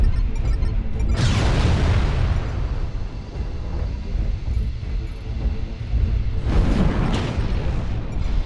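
Missiles launched and bursting in a fighter-plane video game, two big booming blasts about five seconds apart over a constant roaring rumble of engine noise, loud and close.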